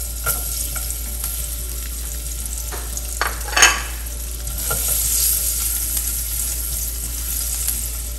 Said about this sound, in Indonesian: Panaskan mentega. Setelah panas, kita tumis yang lebih dahulu itu bawang putih.